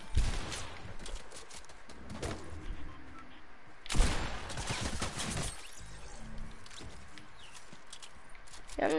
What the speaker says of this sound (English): Still shooting at us.